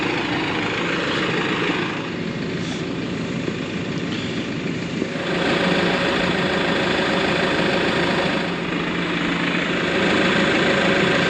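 New Holland tractor idling near horses on a rural property, a continuous low engine drone with a steady throb that rises slightly partway through, no voices.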